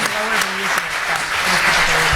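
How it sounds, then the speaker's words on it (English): An audience applauds panelists after a discussion program, a short burst of steady clapping from a room full of people with a voice faintly over it. "a big round of applause for our panelists."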